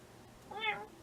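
A pet cat sitting close beside the recorder gives a single short, clear meow in a quiet indoor room.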